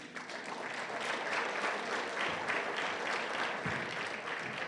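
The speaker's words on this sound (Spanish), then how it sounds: "Vamos a invitar al grupo folclórico con fuertes aplausos." Moderate applause from a church congregation welcoming a folk music group, a steady wash of clapping heard from a little distance without speech over it.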